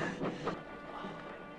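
A train departs from a station, giving a steady, dense rumble with hissing and faint rhythmic rail clatter throughout, heard alone and at moderate distance.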